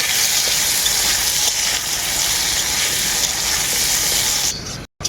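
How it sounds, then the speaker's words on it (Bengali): Cucumber peels frying in a pan give a loud, dense, continuous sizzle that holds steady for several seconds before cutting off abruptly near the end. "এরপর খোসাগুলোকে আমি খুব ভালো করে ভেজে নেব"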